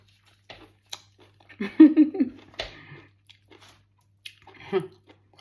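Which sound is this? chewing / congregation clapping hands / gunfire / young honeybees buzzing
chewing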